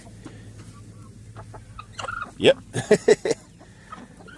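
Chickens cluck in a burst of loud, close calls on a family farm during morning egg collection, with a brief spoken word and faint background sounds before the flock sounds.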